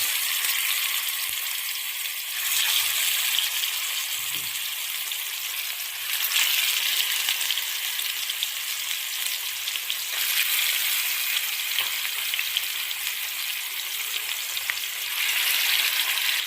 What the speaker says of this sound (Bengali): তেলটা গরম হয়ে গেছে, এবার এক এক করে মাছগুলো দিয়ে নেব